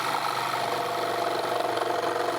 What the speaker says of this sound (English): the problem I have with jigsaws is keeping it smooth